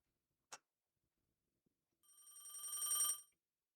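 A telephone bell ringing once in a dark, empty house, a single bright metallic ring that swells over about a second, preceded by a faint tap, otherwise silent.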